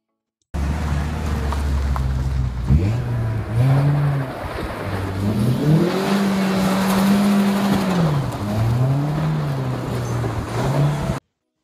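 A Toyota 86 sports car on a test drive revs hard through figure eights and drifts, its engine note rising and falling continuously as it slides sideways, loud and close throughout.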